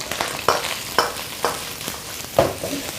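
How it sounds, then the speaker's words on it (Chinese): Pork trotters are stir-fried in a wok over high heat, with a steady sizzle broken by several sharp, regular scrapes of the spatula. "先用大火给它爆炒，稍微多煸炒一下，香味才够浓。"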